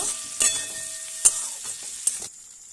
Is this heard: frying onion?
yes